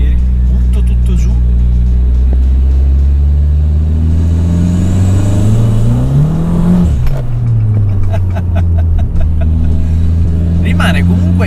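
A 305 hp turbocharged Abarth 500 pulls hard at full throttle in second gear, its engine note rising steadily and loud from the cabin, with someone talking over it throughout.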